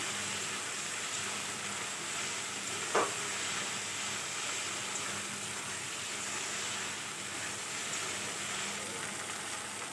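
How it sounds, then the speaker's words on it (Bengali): Stone-ground spice paste for a village-style chicken curry fries in a pan with little oil, giving a steady, even sizzle throughout, broken once by a brief sharp knock. "এখন আমি মশলাটাকে কষিয়ে নিচ্ছি"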